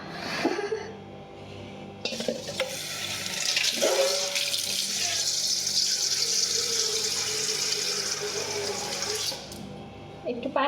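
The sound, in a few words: water running from tap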